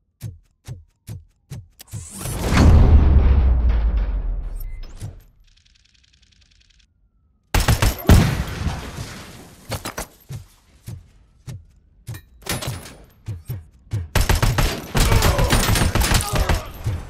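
Rapid bursts of gunfire from the video game RoboCop: Rogue City, sharp repeated shots and fusillades with a loud roaring blast, a near-silent pause, then more dense volleys.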